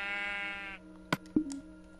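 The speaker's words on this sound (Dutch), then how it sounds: "Dit is een schaap." A Minecraft sheep gives one loud, buzzy, drawn-out bleat in the game. A few short clicks and blips from the game follow.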